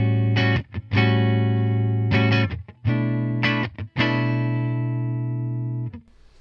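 Clean electric guitar played through an amplifier with no reverb: a few struck chords and notes ring out dry and clear, separated by brief pauses, with the last note decaying slowly.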